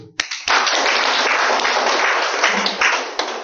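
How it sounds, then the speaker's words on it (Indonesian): A classroom of students applauds their classmates' answers, a dense sustained burst of many hands clapping that starts abruptly and holds steady and loud for about three seconds. "Kita beri aplaus dulu"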